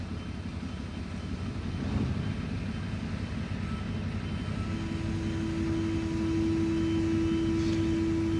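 Niftylift HR21 MK2 access lift driving in reverse: a steady, loud low drone and rumble of the drive motor and hydraulics, with a sustained tonal whine building toward the end, no talk.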